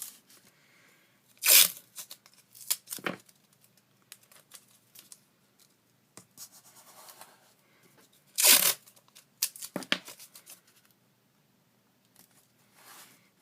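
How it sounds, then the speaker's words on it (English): Masking tape ripped from the roll and pressed onto acetate along three sides: a few sharp, close tearing strips come in two separate bursts, with soft crinkling and handling noises filling the gaps. "masking, putting tape at the tops, all three sides"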